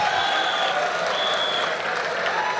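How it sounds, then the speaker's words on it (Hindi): An audience at a college cultural festival applauds after a Hindi poem recitation, a dense, steady burst of clapping from many hands filling the hall for a few seconds. "अगर कविता अच्छी लगे तो जोरदार तालियां बजा देना"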